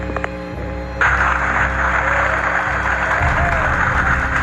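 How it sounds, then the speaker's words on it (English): Loud applause breaks out in Mission Control as Apollo 13's main parachutes appear on the television display, a sustained wash of clapping that jumps in suddenly about a second in and carries on alongside a faint voice from the loudspeaker. "Extremely loud applause as Apollo 13 on the main chute comes through loud and clear on the television display here"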